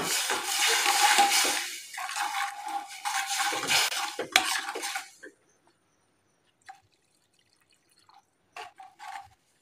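Hot water poured into a pan of roasted vermicelli with masala, a loud rushing, bubbling pour for about five seconds that cuts off, followed by quiet and a few faint clinks and stirs.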